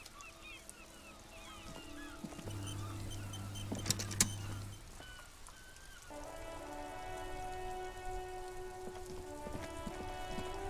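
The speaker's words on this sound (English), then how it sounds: "This rain will not let up anytime soon." Steady rain falls in the video game Disco Elysium, a constant soft hiss running under sustained tonal game sounds and music that change partway through.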